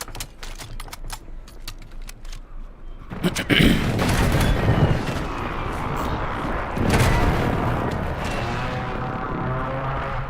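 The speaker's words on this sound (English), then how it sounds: "Enemy precision airstrike. Find cover." Precision airstrike in a war video game: after a few seconds of sharp clicking, a heavy burst of explosions erupts and rumbles on, followed by sustained blast noise and crackle.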